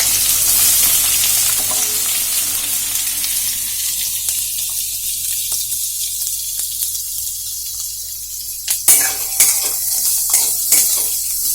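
Onions half-frying in a pan of oil for a Bengali snail and onion dish, a steady loud sizzle that settles lower, with a few sharp clatters of stirring near the end.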